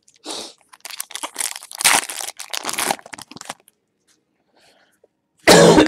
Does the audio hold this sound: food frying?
no